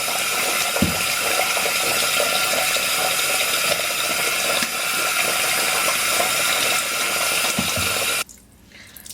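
Hair with faux locs rinsed under running water, a loud steady close rush of water with occasional knocks, then cutting off abruptly near the end.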